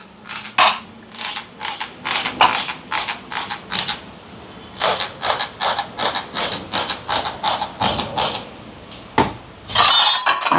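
Oil is sprayed onto idli plates with a hand pump sprayer, giving a rapid series of sharp, close, rhythmic hissing spritzes, each a short burst, with a longer spray at the end and no talk.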